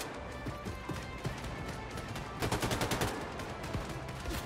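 A rapid, evenly spaced burst of machine gun fire from the PC game Wolfenstein II: The New Colossus cuts through a dense bed of game noise and scattered shots partway through.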